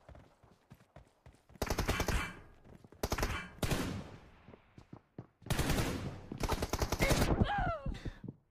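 Shotgun fire in a team deathmatch video game shooter: several loud, sharp blasts in bursts with brief pauses between them, close and dominant, with faint background game sounds.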